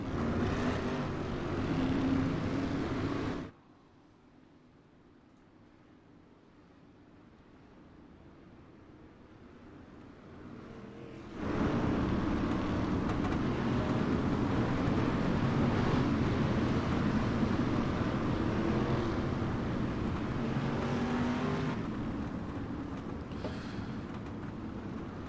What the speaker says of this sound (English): All 22 cars gridded out, rolling out of the pits onto the Speedway.